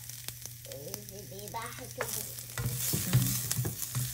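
Ginger sizzles as it is stirred in a frying pan for bamboo-shoot stew, a close crackling hiss with spatula scrapes and a low background hum, and a voice briefly speaks near the start.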